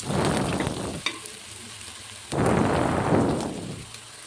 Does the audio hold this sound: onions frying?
yes